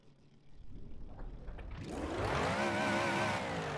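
A 1936 Delage 15S8 race car in a racing video game revs up, the engine note climbing from a low idle into a loud, sustained high-pitched roar that fills the second half.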